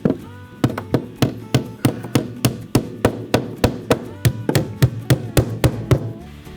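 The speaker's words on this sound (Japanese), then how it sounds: "細い木を当ててボンドつけてそして釘でもう止めるしかありません。" Nails driven into a wooden riser board on the bottom stair, backed by a thin glued strip of wood: a rapid, even run of about twenty sharp, close hammer blows with a woody knock, no talk.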